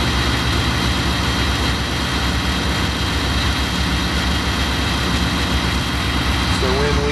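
A 1987 International S1700 bus with air brake problems idles after starting, its engine a loud, steady, low drone that runs throughout while a person talks over it.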